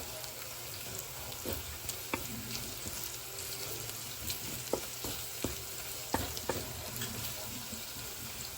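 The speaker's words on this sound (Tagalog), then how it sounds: "Gisa natin yung bawang" Garlic sautéing in a pan for Filipino pinakbet: a steady close frying sizzle runs throughout, broken by scattered sharp clicks and scrapes of a utensil stirring against the pan.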